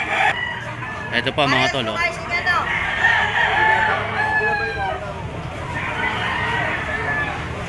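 Fighting roosters crow and cluck at a busy gamecock market in Lipa, Batangas, with several overlapping crows rising above someone talking nearby and steady crowd chatter.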